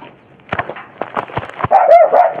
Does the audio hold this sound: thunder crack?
no